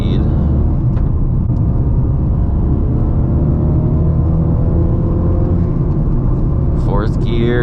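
A modified Ford Focus RS picks up speed on a canyon road, its engine droning steadily from inside the cabin as someone talks over it, with a brief rising whine near the end.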